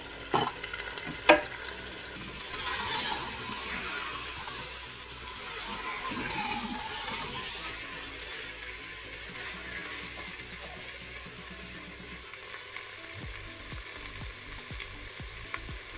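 Carrots sizzle in a hot pan alongside celery while being stirred, a continuous frying hiss with scraping stir strokes that fades toward quiet near the end.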